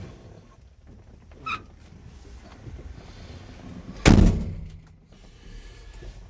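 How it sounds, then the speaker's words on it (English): Cab door of a John Deere 690C excavator shutting, a single loud thunk near the middle after soft rustling and a small knock, close to the listener. "I probably ought to shut the door"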